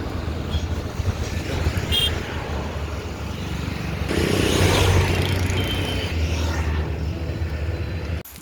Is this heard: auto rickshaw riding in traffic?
yes